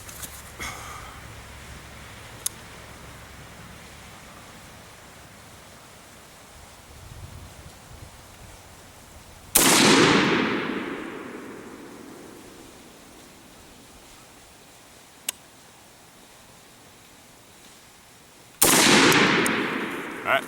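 Two sharp AR-15 rifle shots firing 5.56 rounds at a 50-meter zeroing range crack loudly about nine seconds apart, each trailing a long outdoor echo. Fainter distant pops sound in between, and the air is quiet otherwise.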